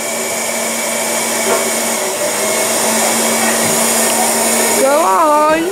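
Electric pump inflating an air bed with a busted seam, a steady loud motor whine that holds a constant pitch, then rises and wavers near the end as the load shifts.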